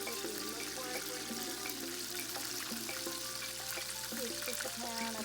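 Chicken wings frying in a pan give a steady, close sizzle with crackling spatter, alongside a tonal hum in the kitchen background.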